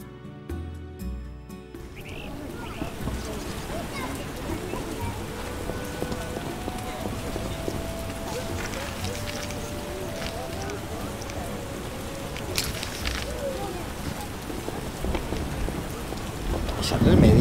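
Constant rain pours down in The Witcher while thunder rolls in the background, a dense steady wash of rain with low rumbles. It begins after a brief stretch of other game sound and carries on unbroken.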